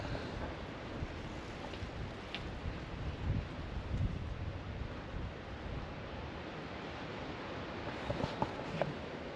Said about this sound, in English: just have a look at the trees if you can see them, and you'll see how windy it is.